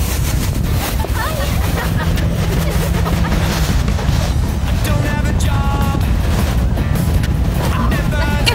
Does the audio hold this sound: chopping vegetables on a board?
no